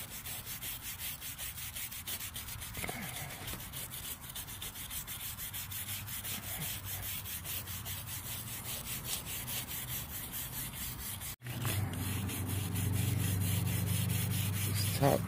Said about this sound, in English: I'm going to take a steel wire brush and we're just going to give them a quick little scrub real quick.